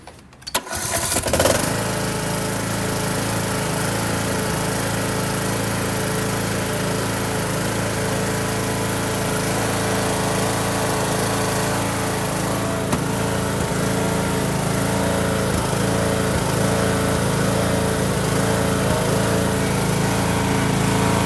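Cub Cadet XT1 lawn tractor engine catching and then running steadily at a high throttle, a loud continuous droning hum close by that holds for about twenty seconds.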